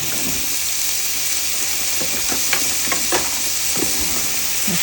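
Minced garlic and onions frying in a pan for a creamy peri peri chicken, a steady close sizzle with light scrapes of a spatula, no talking.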